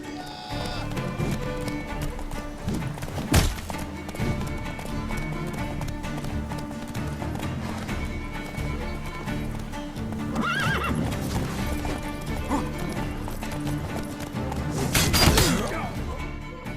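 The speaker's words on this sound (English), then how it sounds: "horse combat in this game is difficult." A horse in The Witcher 3 video game gallops with steady clip-clop hoofbeats under game music and combat noise, with sharp thwacks and a whinny near the end, close and loud.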